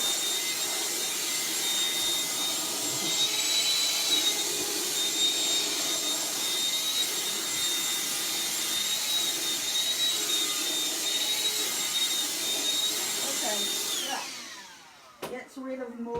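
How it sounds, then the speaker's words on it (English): A handheld Dust Buster vacuum whines steadily and loudly as it sucks fluff off fabric, then winds down near the end, leaving faint handling clicks. "Dust buster. Just dust it up."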